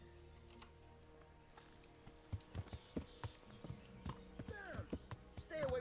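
Horse hooves clip-clop in a steady rhythm that grows louder, with a faint whinny near the end over a quiet background, in the video game Kingdom Come: Deliverance.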